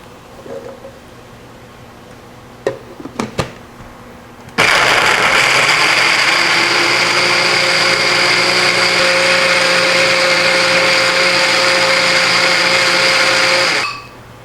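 A few clicks and taps, then a blender full of blueberries roars to life loudly and whirs steadily for several seconds before abruptly shutting off.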